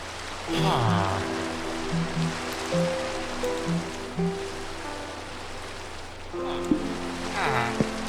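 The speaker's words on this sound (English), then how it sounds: "It's raining now." Steady rain falls in the Minecraft video game world, a soft continuous hiss running throughout while background music plays over it and a voice briefly speaks.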